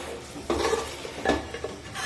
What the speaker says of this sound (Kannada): ಮಿಕ್ಸ್ ಮಾಡ್ಕೊಂಡು ಚೆನ್ನಾಗಿ ಮರಳಿಸೋಣ.